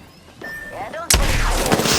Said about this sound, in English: Never mind, that's grenades.